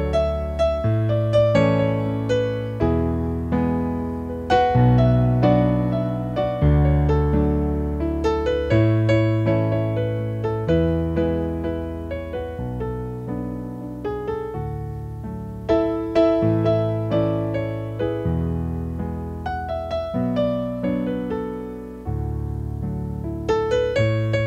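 Piano plays the chorus of Your Love Never Fails with an added low bass note under the chords, in a steady rhythmic pattern of repeated struck chords, close and alone for about twenty-five seconds.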